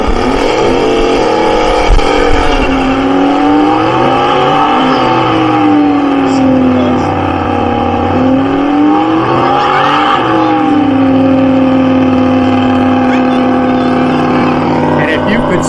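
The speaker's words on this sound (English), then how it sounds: "Here we are, the good guy burnout contest" A muscle car does a tire burnout at a good guy burnout contest during an outdoor car show, its engine revving loud and steady with sweeping pitch rises and falls across the whole stretch, crowd noise around it.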